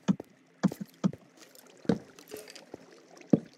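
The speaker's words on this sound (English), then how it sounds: "Oh no, I hear a skeleton." Sparse hollow clacks and knocks of a rattling skeleton in Minecraft, sounding at irregular intervals, a few close together, fairly faint against a quiet background.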